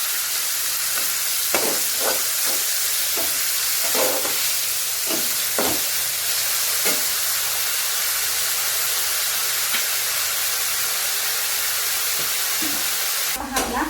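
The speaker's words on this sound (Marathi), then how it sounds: "पटकन कांदा टमॅटो आपला भाजला जातो" Onion and tomato with salt roasting in a pan for spicy matki amti, a continuous loud hissing sizzle with a burst of spatula scrapes early on, then steady frying to a sharp knock at the end.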